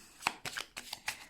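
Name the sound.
tarot cards dropped and gathered up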